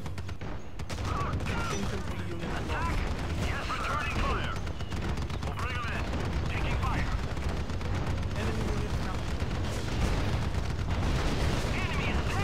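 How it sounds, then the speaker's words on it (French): Mortars and rockets fire repeatedly in the real-time strategy game Act of War, a dense, continuous rumble of booms and blasts with battle noise layered throughout, while a voice talks over the action. "Les mortiers qui tirent, les roquettes qui tirent, on sent quelque chose"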